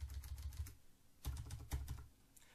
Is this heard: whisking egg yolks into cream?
no